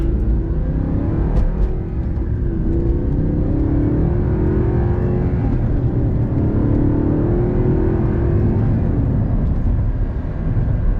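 A 2009 Audi R8 Carbon Package drives along with a steady, loud low engine drone and road roar, the pitch rising and falling slightly as it accelerates, heard close from inside with no talking.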